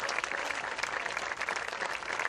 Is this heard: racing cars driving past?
no